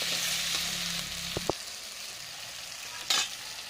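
Tomatoes frying for a mutton curry hiss in a pan, with a couple of sharp spoon knocks and a brief louder sizzle near the end.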